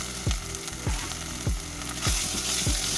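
Kochu shak (taro leaves) is stirred in a pan with grated coconut, chickpeas, ginger and brown sugar: a steady close sizzle of frying broken by regular scraping strokes of the spoon, about one every half second, with no voices.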